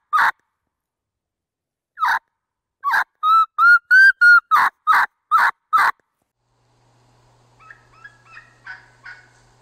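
A voice imitates a young turkey's high, urgent whistled kee-kee calls in a quick run of short bursts, trailing off into softer chirping yelps near the end.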